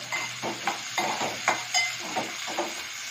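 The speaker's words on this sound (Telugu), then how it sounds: "పచ్చిమిర్చి, ఉల్లిపాయ ఒకసారి వేసుకోవాలి. ఒకసారి అన్ని ఫ్రై చేసుకొని" Green chillies and chopped onion fry in a pan for a besan curry, with a steady low sizzle under repeated scrapes and clinks of a spoon stirring against the metal.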